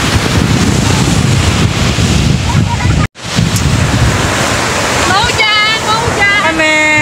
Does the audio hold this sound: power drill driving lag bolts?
no